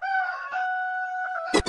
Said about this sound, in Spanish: Es el gallo Kikiriki